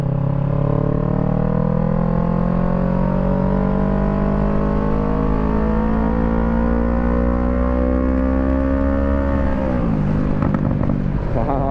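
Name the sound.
Kawasaki Z650 motorcycle revving with exhaust pops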